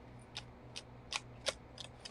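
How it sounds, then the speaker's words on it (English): Tarot cards are shuffled in several short, soft riffling bursts, close and faint over a low background hum. "Get this shuffled up"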